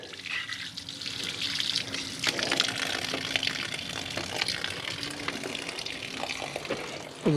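Water rushes through a newly installed water line, a continuous gushing flow like an open tap running steadily and close by, with a few clanks and a sharp knock at the end and no talk.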